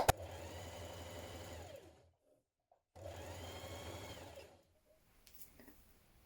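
A sewing machine stitches a double hem around the bottom of a dress in two steady motor runs, each about two seconds, separated by a brief pause, then quiet handling noises at the end.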